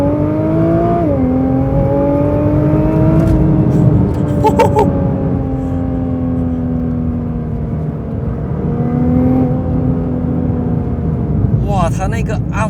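A Nissan GT-R Nismo with a 6-speed DCT accelerates hard, its steady engine drone climbing and dropping at several quick upshifts, heard from inside the car with a person talking over it.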